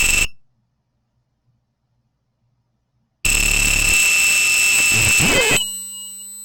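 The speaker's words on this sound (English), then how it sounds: "our buzzer is doing what it's supposed to. It's turning on and off every second." An electronic buzzer wired to a Raspberry Pi and partly covered by its protective sticker sounds in two bright, piercing tone bursts separated by a stretch of silence, the second burst lasting over two seconds.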